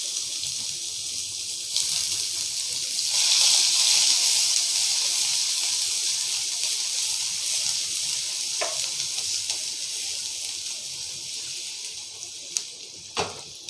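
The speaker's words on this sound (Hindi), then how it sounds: "अब इसमें मैं प्याज डालूंगी।" Onions hit hot oil with cumin seeds in a pan, a loud steady sizzle and crackle with stirring scrapes and a few sharp clinks, no talk.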